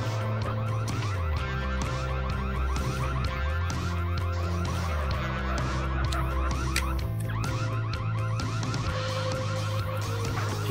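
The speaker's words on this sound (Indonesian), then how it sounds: "Bunyi cuy, alarmnya cuy." A car alarm going off in a roleplay video game, a loud, steady alarm tone that runs the full ten seconds alongside heavy background music, with no talk over it.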